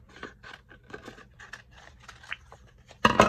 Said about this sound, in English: And then I'm gonna cut this in half.